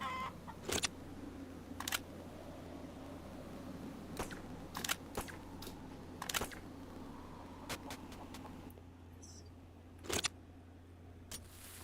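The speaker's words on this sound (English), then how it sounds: "Can you hear the chicken?" Soft clucking of a chicken in the video game Phoenotopia: Awakening, faint and intermittent under a steady ambient hum, with scattered sharp clicks and taps throughout.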